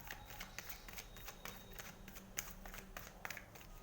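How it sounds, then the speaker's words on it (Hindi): Tarot cards shuffled and drawn during a love reading, a soft continuous papery riffle with small slapping flicks, close and fairly quiet, with no talking over it. "Let me take one more card."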